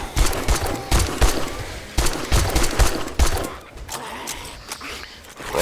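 Rapid bursts of gunfire in the survival game 7 Days to Die, set in the town of Diersville, come in loud repeated volleys that pause briefly and then fade to quieter shots.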